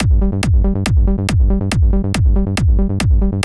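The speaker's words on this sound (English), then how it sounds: "This is one of those classic kind of trance bass lines." Classic driving trance bassline on a G, each low note answered by an octave-up note on the offbeat; punchy, buzzy synth plucks repeat in a tight, even pulse, loud and alone.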